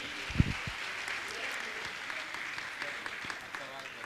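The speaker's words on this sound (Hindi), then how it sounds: "ताली तो बजाइए इनके लिए" A crowd claps steadily in a dense wash of applause, with a brief thump near the start and a faint voice underneath.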